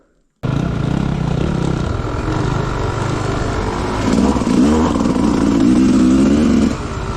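An enduro motorcycle engine drones loudly and close after a sudden start, holding a steady low throttle in second gear while climbing, rising slightly in pitch partway through.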